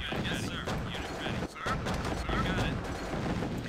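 Units trading weapon fire in Command & Conquer: Tiberian Sun, a steady crackle of rapid gunshot bursts with a brief pause midway, under quiet background game audio.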